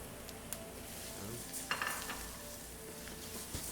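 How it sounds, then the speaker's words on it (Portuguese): Arborio rice being stirred in a pan for pequi risotto, a soft continuous sizzle with faint scraping of the utensil against the pan, quiet and close. "Vou mexendo sempre."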